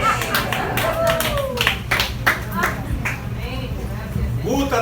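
A church congregation claps during a Spanish-language sermon, a scattered patter of hand claps running under the preacher's continuing voice.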